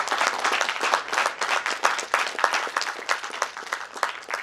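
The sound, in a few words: audience applauding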